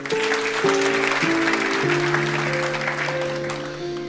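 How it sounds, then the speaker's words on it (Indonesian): Congregation applause during a Tuesday Bible service sermon, a sustained wash of clapping under a held musical chord that shifts pitch, moderately loud and fading a little toward the end. "Anda boleh tepuk tangan."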